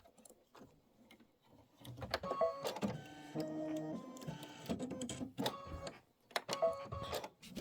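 An embroidery machine stitches out a Kimberbell quilt block in navy thread. It whirs in bursts of rapid mechanical stitching, with short pauses and small clicks between the runs.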